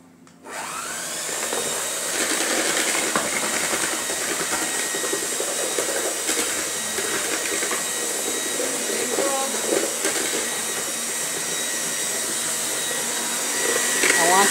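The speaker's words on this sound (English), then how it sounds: "I'm gonna blend my mango" A blender whirs continuously while blending mango, a loud steady roaring hiss that starts abruptly and holds for the whole stretch, with no talk over it.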